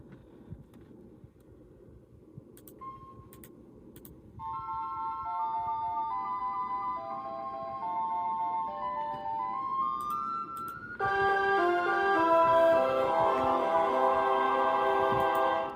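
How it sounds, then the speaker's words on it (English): Computer playback of alto recorder parts in MuseScore with a metallic tone: sustained synthetic notes enter after a quiet, noisy stretch, stepping through a melody before a fuller, brighter chord of several parts swells in near the end. "I don't like how they sound really metallic for recorders."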